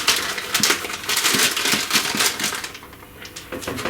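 An old, discolored plastic bag is handled and propped open, giving loud, close crinkling and crackling that rustles on steadily for a few seconds without talk.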